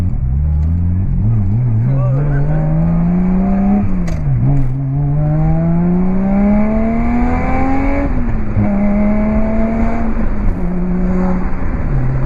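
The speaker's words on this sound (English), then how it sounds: "It actually blips so easily with that light flywheel" Subaru Legacy with a swapped H6 engine and light flywheel, revving through repeated climbs and quick throttle blips as gears change, loud and close inside the cabin, with a voice talking over the engine.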